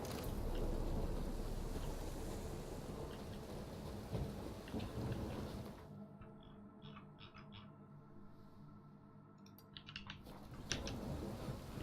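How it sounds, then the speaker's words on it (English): Steady rain and rolling thunder in the video game The Witcher 3, a dense wash of falling rain with low rumbling that thins out midway, leaving sparse drips and a softer hum before the downpour swells again. "Rain, I like rain."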